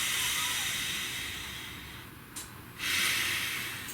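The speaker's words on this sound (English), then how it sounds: "Nice deep breath." A slow, deep breath taken close by, a soft airy inhale swelling and fading, followed by a fuller exhale rush, faint and alone with no talking.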